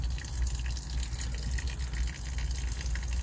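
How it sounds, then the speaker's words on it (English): Water draining through a hole in a tankless water heater: a steady, continuous gushing and splattering flow, close and fairly loud throughout, with no talking. "Well, she's draining pretty good now."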